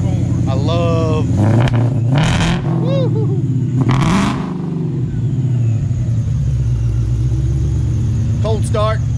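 Cold start of a car with a loud aftermarket exhaust (MagnaFlow and Flowmaster mufflers), a rumbling idle with rising revs close by, while people talk over it.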